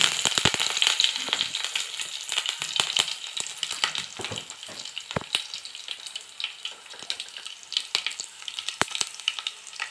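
Dried red chillies and curry leaves crackle and pop in hot tempering oil with mustard and cumin seeds, a close, busy spatter of sharp sputters over a steady sizzle.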